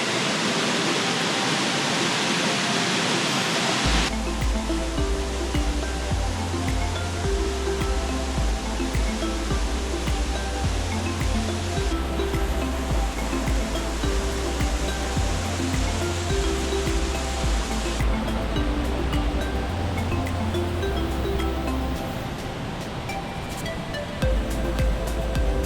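A waterfall in the Mindo cloud forest roars as a steady, dense rush of falling water, loud and close, continuing unbroken throughout with a low rumble beneath the hiss.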